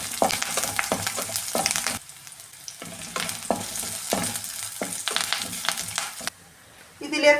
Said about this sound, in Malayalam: ചെറിയുള്ളിയും കറിവേപ്പില വറ്റൽമുളകും കൂടി ഇട്ട് കൊടുക്കാമേ.